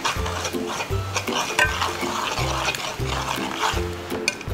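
Shrimp paste (terasi) hitting hot oil in a pan while making Balinese sambal matah, giving a steady close sizzle broken by repeated stirring scrapes.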